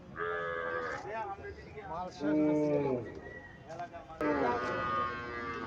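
Cows moo loudly and repeatedly nearby at a cattle market, several long, deep calls overlapping one another, with some talking in the background.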